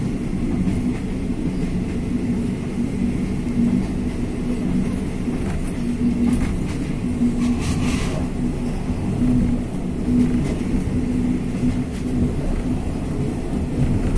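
Thai sleeper train on the Sungai Kolok–Bangkok line rolling along double-track rails, a continuous low rumble with faint rhythmic rail clatter and occasional metallic squeals, steady throughout.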